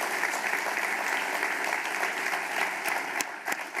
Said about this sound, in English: certainly worth an applause.